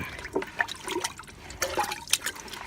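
Trichoderma fungus solution poured onto the base of a durian tree, a close, uneven splashing and trickling with a few sharper drips, heard alone without talk.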